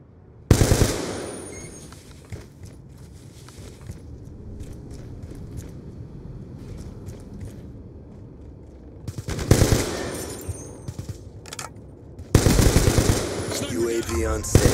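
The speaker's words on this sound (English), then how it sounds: "Death machine spinning up." In Call of Duty Black Ops 2 multiplayer, a Death Machine minigun fires in loud, dense bursts, one near the start and more near the end, with quieter game noise in between.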